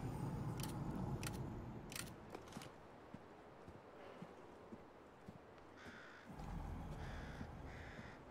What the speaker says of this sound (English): Are there any more crows?